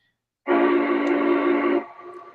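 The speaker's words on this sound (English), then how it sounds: "So it's got a nice whistle" A Lionel LionMaster model train whistle sounds once, a loud sustained chordal tone lasting over a second, then fades into a softer lingering hum.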